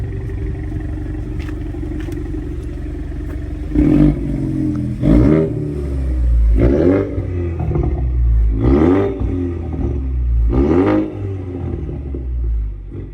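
A Ford Mustang GT V8 idles with a deep rumble close by and is revved about five times in short, evenly spaced bursts, each rising and then falling back to idle.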